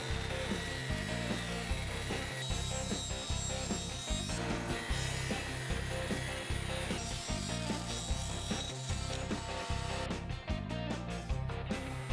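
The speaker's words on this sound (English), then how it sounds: "I'll cut it lengthwise and like this, so that I can insert it in the sanding drum." A saw cuts lengthwise through PVC pipe in steady back-and-forth strokes, loud and close, with a rasping rhythm that runs continuously for the whole stretch.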